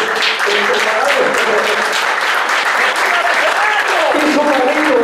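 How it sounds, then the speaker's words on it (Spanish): Audience applause during a town festival proclamation speech, dense sustained clapping from a sizeable crowd, loud and continuous, with voices calling out over the top. "Creo que se merece un aplauso por el preparado."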